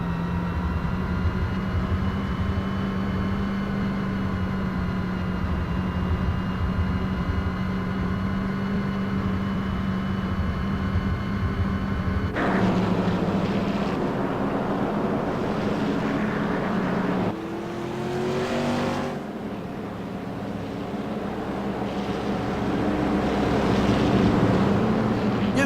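A loud, high-revving CRA modified race car engine at Five Flags Speedway drones steadily, then shifts to a rougher, fluctuating roar as the pitch changes, close and continuous throughout.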